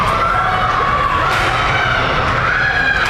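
At a 10U girls' youth hockey game in an ice rink, the bench crowd cheers loudly and continuously, a dense wash of high shouting voices with one sustained shrill tone wavering above it.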